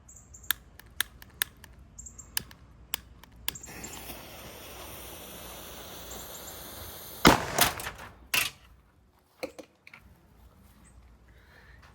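Faint sharp clicks and a fizzing hiss build up to a single loud, close bang from a black powder mini cannon, followed by a brief rattle and quieter ticks afterward.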